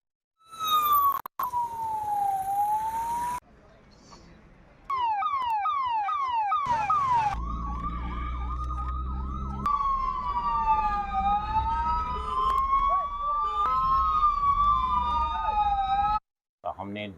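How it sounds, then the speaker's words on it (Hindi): Loud wailing and yelping sirens fitted on two motorbikes cycle through different patterns in town, with brief pauses and engine rumble underneath. "हमने 2 motor bikes fitted with sirens हमने उनको टाउन में आज भेजा"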